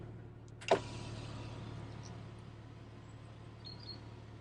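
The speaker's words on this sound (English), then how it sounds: "it has an electric tilt slide sunroof" An electric tilt-slide sunroof on a Porsche 911 Turbo 997 Gen 1.5 opens with a sharp click, followed by a quiet, steady motor whir inside the cabin.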